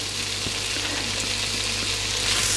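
Onion, ginger and garlic sauté in melted butter in a pot, giving a steady, even sizzle up close with faint stirring ticks scattered through it.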